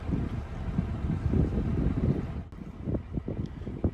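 Wind buffets the microphone aboard a sailboat motoring along the west coast of Meganisi near Lefkada, Greece, a steady rumbling rush that eases after a sharp break midway into lighter gusts and water sounds.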